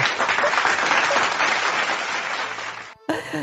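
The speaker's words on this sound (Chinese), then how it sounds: "如果好听的话呢，给我一个掌声鼓励哦" Applause from a live-streamed Chinese opera singing session, a dense burst of clapping that holds steady for about three seconds and then stops abruptly.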